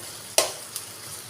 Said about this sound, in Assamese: এতিয়া মই অলপ সময় ভাজি ল'ম, আৰু অকণমান পিঁয়াজখিনি ৰঙচুৱা হ'বলৈ দিম।